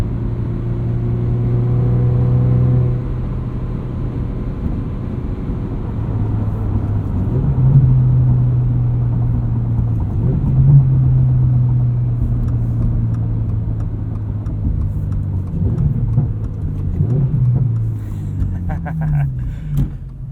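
Subaru BRZ (2022) with an MRT street/race axle-back exhaust and no mufflers, its engine droning steadily as revs rise and fall through gear changes and downshifts, heard from inside the cabin with a voice talking over it.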